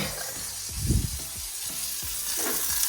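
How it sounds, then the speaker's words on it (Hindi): Mushrooms lightly frying in a pan give a steady close sizzle with a few soft stirring clatters and bumps, no talking. "तो इधर अपने मशरूम हल्के फ्राई करो"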